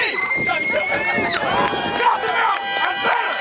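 A crowd at a live wrestling show in Navasota cheers and shouts in a loud, close burst, mixed with excited voices and a ringing tone that fades early.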